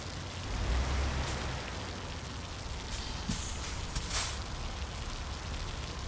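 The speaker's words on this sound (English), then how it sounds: "this rain is crazy" Steady hiss of heavy rain in the American Truck Simulator driving game, a dense even wash of noise with faint droplet ticks, continuous throughout and alone.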